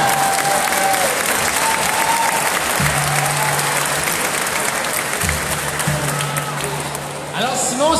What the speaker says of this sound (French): Alors, on applaudit Simon.